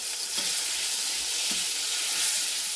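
Bitter gourd slices fry in a pan with a steady, bright sizzle and hiss, close and continuous, with faint stirring knocks and no voices.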